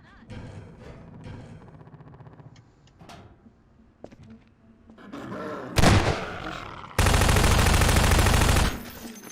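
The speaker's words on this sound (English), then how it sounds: "Let me shoot out the latch. I might be a little rusty with this rifle." Rifle shots blasting out a ladder latch in Half-Life 2 Episode 1: a sharp report just before six seconds, then a long loud sustained roar of gunfire, with quieter game sounds and rumble earlier.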